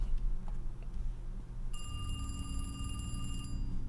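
A telephone rings in the indie horror game The Devils Route, a bright electronic ring trilling steadily for about two seconds over a low, rumbling ambient drone.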